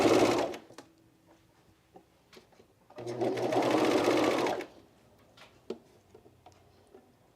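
Sewing machine stitching a camisole with bra shelf and fold-over elastic: a short burst, then a longer steady run of rapid close stitching, with light clicks and handling noises in the quieter gaps.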